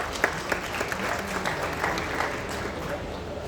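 An audience at an airline launch event for Mogadishu flights applauds, a moderate, steady patter of clapping lasting a few seconds with a few sharper claps near the start.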